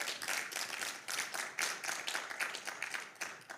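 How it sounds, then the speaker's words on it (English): A theatre audience gives a round of applause, a dense, pulsing wash of many hands clapping at close to moderate distance, swelling in waves without a break. "Round of applause for those funders."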